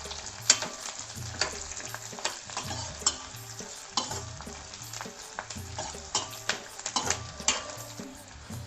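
Onion, peanuts and dal sizzling in a pan while a spoon stirs them, with repeated scraping strokes over a continuous close frying hiss and no voices.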